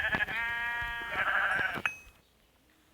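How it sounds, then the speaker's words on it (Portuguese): Sheep in a video game bleat in a long, clear, close cry, followed by a short pause and a fainter tail, with no talk over it. "Deixa eu matar esse ovelha aqui."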